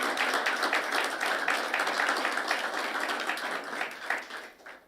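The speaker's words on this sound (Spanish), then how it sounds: "Dele el aplauso al Señor," A church congregation applauds during a sermon, a soft, fairly distant patter of many hands clapping that fades out toward the end.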